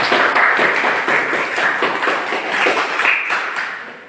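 Classroom applause for classmates, a dense burst of many hands clapping close and loud for about four seconds before tapering off, with no voices over it.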